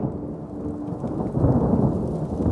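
Rumbling thunder from a storm building out in the distance, a continuous low roll with a swell partway through, steady and fairly loud with no voices.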